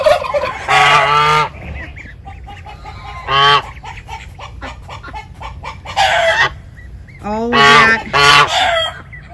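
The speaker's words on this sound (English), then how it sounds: "we have hatched out a bunch of baby duckies" Ducks and geese, including gray slate duck mixes and call ducks, honk and quack in a Central Florida backyard flock. Several loud, close calls come in separate bursts with quiet gaps between them.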